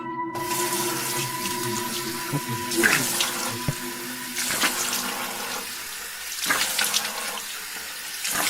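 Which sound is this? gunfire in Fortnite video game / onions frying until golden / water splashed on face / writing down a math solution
water splashed on face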